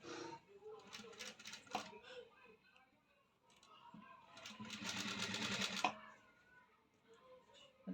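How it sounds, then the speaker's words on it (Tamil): A sewing machine stitches the folded neckline of a cross-cut blouse, running in short rapid bursts of close mechanical ticking with a longer steady run near the end. The sound is faint overall and has no spoken words. "மடித்து பிடிச்சி ஸ்டிச்சிங் போடணும்"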